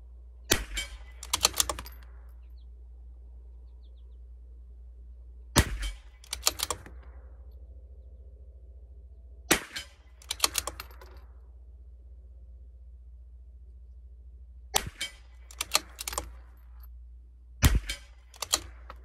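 A CZ457 .22 rifle fires Eley Pistol Plus ammunition at a 50-yard range: sharp, cracking shots in clusters of two to four, each group a few seconds apart, over a steady low hum.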